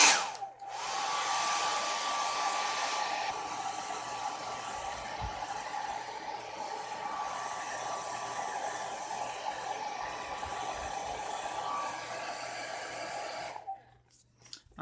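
A hair dryer blows steadily and loud for about thirteen seconds, drying wet watercolor paint on paper, starting and cutting off abruptly.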